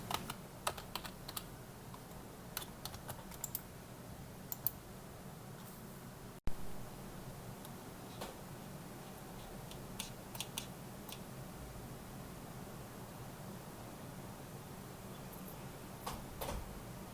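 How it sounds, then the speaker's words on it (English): Typing a command on a computer keyboard, quiet clusters of key clicks in short irregular bursts over a faint background hiss, with no voices. "Then, we will type in the command to run Olive bar."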